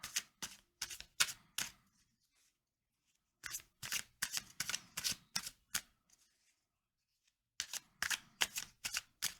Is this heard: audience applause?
no